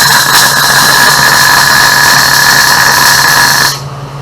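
Welding on metal junk art gives a loud, continuous buzzing hiss with a steady tonal whine for nearly four seconds, then cuts off abruptly, leaving a low fainter hum, with no talk.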